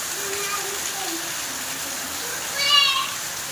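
Heavy rain from a thunderstorm makes a constant hiss behind a person talking, with a brief louder swell near the end.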